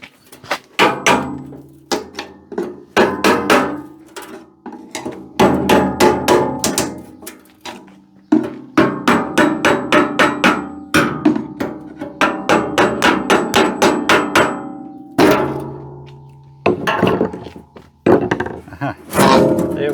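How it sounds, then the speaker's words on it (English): Steel rivets being punched out with a hammer on the sheet-metal cover of an old electric arc welder, a long run of loud, sharp metallic blows in rapid bursts with short pauses, up close and alone. "now we'll punch these rivets through and we should be able to lift the cover off"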